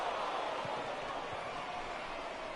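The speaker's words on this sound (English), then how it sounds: "I can hear the crowd murmuring now" A low, steady wash of crowd noise at a minor league baseball game in Frisco, an indistinct murmur of many voices in a large stadium with no clear words.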